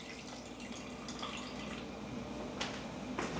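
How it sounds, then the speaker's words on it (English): Water poured into a pot of jollof rice stock, close soft drips and small splashes with a couple of sharper plinks near the end, alone without talk. "I'm gonna add a little bit more water, not too much more."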